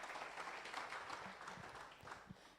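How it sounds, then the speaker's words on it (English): An audience at a technology seminar applauds, a soft, even wash of many hands clapping, heard faint and distant throughout. "It definitely deserves a round of applause."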